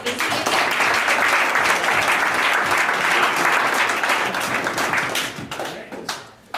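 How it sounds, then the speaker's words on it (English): A round of applause at a team meeting, dense clapping from a gathered group held steady for several seconds before tapering off and thinning near the end. "Let's give them all a round of applause."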